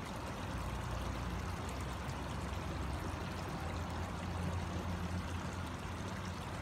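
A pond vacuum discharges water in a steady, continuous pouring stream, moderately loud and unbroken throughout, with no talking.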